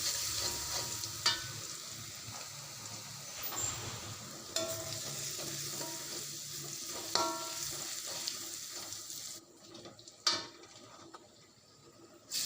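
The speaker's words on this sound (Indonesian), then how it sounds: "Panaskan minyak goreng, kemudian masukkan 3 siung bawang putih yang sudah diparut, kemudian tumis sampai kecoklatan dan harum." Grated garlic sautés in hot cooking oil, a steady close sizzle broken by occasional sharp scrapes and taps of a spatula stirring against the pan.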